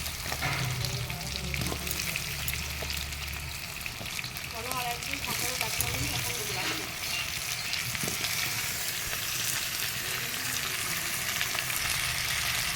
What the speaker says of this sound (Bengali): এবার আমি মাটির আলুগুলো এর মধ্যে দিয়ে দিলাম